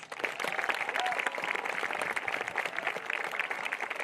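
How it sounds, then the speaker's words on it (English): Crowd at a high school FFA graduation ceremony applauding graduating students, a steady moderate patter of many hands clapping, somewhat distant in a large space. "Please join me in applauding their success."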